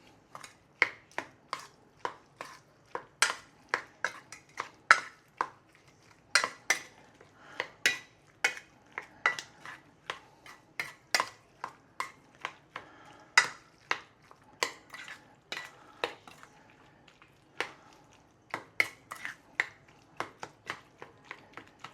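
Spoon working through a wet meatball mixture of ground meat, egg and cornstarch in a bowl: a steady run of sharp, close clicks and soft squelches in uneven rhythm, with no talk.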